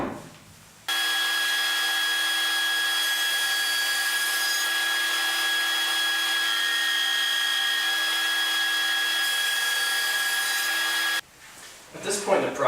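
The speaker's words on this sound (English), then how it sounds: "we'll end up with a blank like this, which we'll just send through the planer to flatten it out" A woodworking planer flattens an end grain cutting board blank, producing one long, loud, steady mechanical roar with a sustained tonal whine that cuts in abruptly and stops just as suddenly, with brief handling noise on either side.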